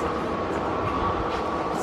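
A train at an Amsterdam station gives off a constant low rumble and hum, moderately loud and steady, with no clear voices over it.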